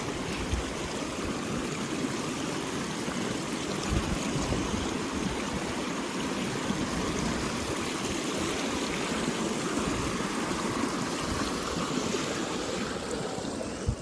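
Overflowing stream water near a village rushing without a break, a dense, loud, steady roar that holds for the whole stretch with no voices on top.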